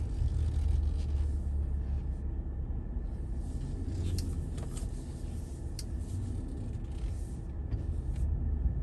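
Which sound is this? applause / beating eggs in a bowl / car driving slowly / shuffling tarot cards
car driving slowly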